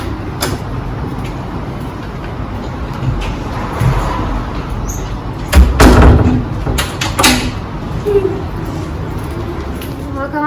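A door being closed at home makes a few sharp thuds and clatters in the middle of the clip, over a low background of room noise and faint voices.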